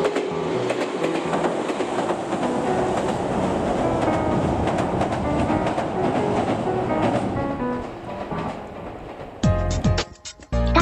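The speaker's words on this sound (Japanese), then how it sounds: "碧南方面からの6000系を撮影します。" A Meitetsu Mikawa Line 6000 series train crosses the Takahama River bridge, a loud steady roar of wheels and rhythmic clatter over the span that fades before a sharp burst of louder noise near the end.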